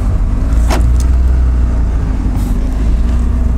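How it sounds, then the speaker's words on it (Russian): Honda N-Box kei car pulling away at a car market, a steady low engine hum and road rumble close by, with a brief hiss of passing noise and no talk. "Давайте, наверное, поедем потихонечку, да, заодно посмотрим, как едет автомобиль"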